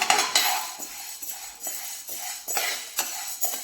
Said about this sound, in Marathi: कंटिन्यू हलवत राहायचं आहे डाळीला